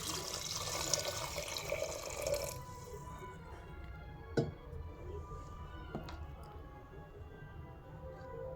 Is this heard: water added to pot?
yes